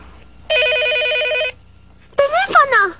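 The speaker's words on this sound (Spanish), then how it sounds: "¡Teléfono!" A landline telephone bell rings in a one-second electronic burst in a Korean drama scene, then a voice calls out sharply right after it.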